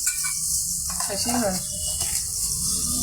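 Kumra bori fry with onions and green chillies in a pan. A steady close sizzle runs throughout, and a person speaks over it.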